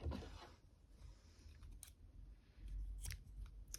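Scissors snipping crochet yarn for a heart-pattern crochet jacket: a couple of soft, quick cuts heard close up in a quiet room, faint and brief with no talking.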